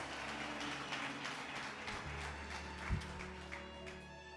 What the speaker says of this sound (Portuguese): Vamos lá, aplaude Jesus